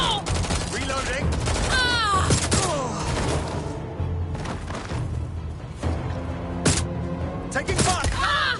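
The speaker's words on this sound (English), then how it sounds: "Being shot at here!" Watch Dogs: Legion gunfire during a guard fight, with scattered loud shots and bursts mixed with character voices calling out, sharp cracks standing out near the end.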